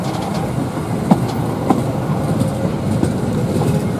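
The Argo Parahyangan passenger train runs from Bandung toward Gambir station past a railway level crossing, a close, steady rumble with regular clickety-clack wheel beats.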